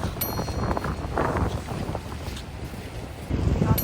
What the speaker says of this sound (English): Now these waves here, we also have what we call freak waves or sneaker waves